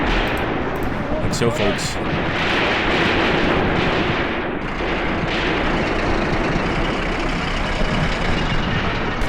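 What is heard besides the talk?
artillery fire in video game Graviteam Tactics: Mius Front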